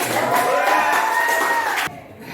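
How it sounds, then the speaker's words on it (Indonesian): Close, loud crowd of students cheering and shouting together after a classroom group project presentation, one sustained burst that cuts off sharply near the end. "Tepuk tangan untuk"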